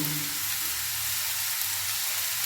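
Cauliflower paratha filling fries in a pan with a steady, loud sizzle that runs the whole time. The sound is close and even, with no talking over it.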